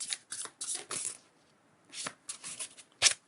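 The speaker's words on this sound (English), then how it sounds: "but two more shuffles" Tarot cards shuffled up close in quick riffling bursts, several short rustling flurries separated by brief pauses, ending with one sharp, crisp snap of the deck.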